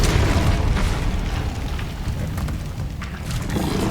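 Descendo spell from the Hogwarts Legacy video game, a sustained rumbling, explosive roar lasting several seconds with a crackling burst near the end, loud and continuous, no voices.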